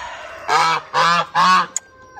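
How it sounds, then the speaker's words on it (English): A goose honks loudly near a barn, three long harsh honks in steady succession followed by a short sharp squawk, close and clear with no talk. "all I could hear was a goose honking"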